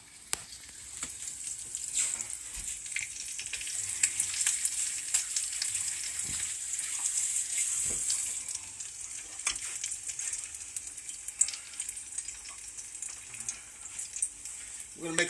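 Breaded food fries in hot oil with a steady bright sizzle that holds throughout, broken by a few light clicks and scrapes, close and continuous with no talking.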